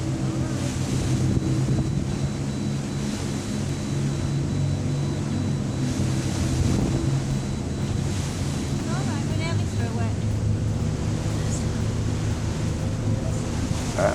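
Sea waves breaking off Pan Bush near Amble, heard from aboard a small boat as a steady, loud wash of water and surf with heavy wind buffeting the microphone throughout, and no clear individual breakers standing out.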